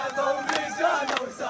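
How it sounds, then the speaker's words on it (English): Crowds in the streets of Khan Yunis in southern Gaza celebrating a peace agreement, a loud mass of voices chanting and singing together with scattered claps. "Singing, dancing and clapping"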